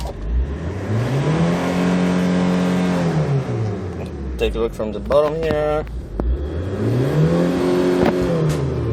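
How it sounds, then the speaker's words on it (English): A diesel engine in a 2001 Hyundai Terracan JX250 4WD SUV with automatic transmission revs up twice, its pitch rising, holding, then falling, with someone speaking briefly between the revs. "Let's accelerate and take a look at the RPMs."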